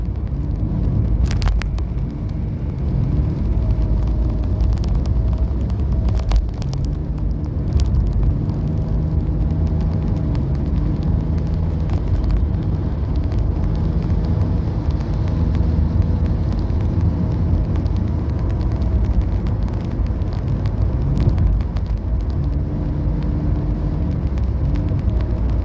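A car cruises along Bitam Highway at about 100 km/h, with a steady loud rumble of engine, tyres and wind throughout and no break or change.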